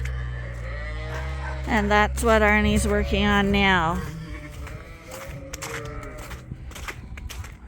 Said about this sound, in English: We've got Dorset ewes in this barn, the fall lambs and the adults.